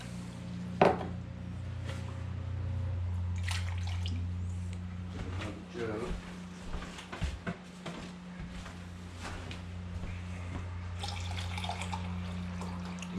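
Water poured from a kitchen tap or container into a pot for light syrup while canning sweet potatoes, a steady close pour with a low hum beneath and a few clinks and drips.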